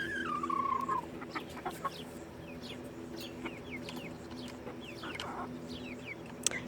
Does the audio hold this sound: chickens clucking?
yes